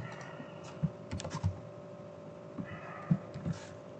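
Keys on a computer keyboard tap softly as code is typed, a few quick clusters of clicks with short gaps, close but faint over a steady low hum.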